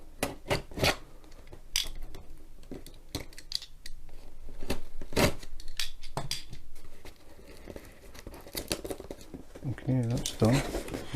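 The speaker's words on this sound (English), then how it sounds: "So I'll just cut the tape, try not to cut myself." A knife slices through packing tape on a box holding a diamond painting kit, heard as sharp, irregular clicks and scrapes up close, with a short crinkling rip near the end.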